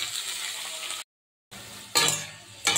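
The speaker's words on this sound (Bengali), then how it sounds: "আলুগুলো এই যে দেখুন কীভাবে ভাজা হচ্ছে, আলুগুলো এইভাবে আলুগুলো আমি ভাজছি।" Potatoes fry in a hot pan, a steady hiss of sizzling broken by a short silence, then resuming with clinks and scrapes as the pieces are stirred with a spatula, close and fairly loud.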